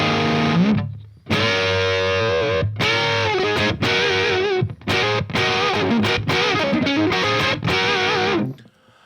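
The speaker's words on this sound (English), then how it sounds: "Try the distortion all the way up." Electric guitar played through a HipKitty Chameleon pedal with the distortion turned all the way up: loud, fuzzy, heavily saturated chords and riffs in short bursts separated by brief gaps, ending with a sustained ringing note.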